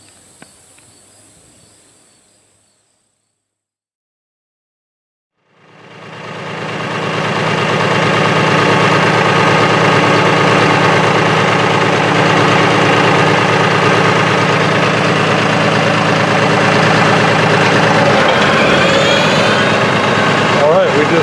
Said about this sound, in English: we'll have the tractor fired up and ready to go